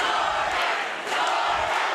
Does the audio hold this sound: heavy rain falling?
no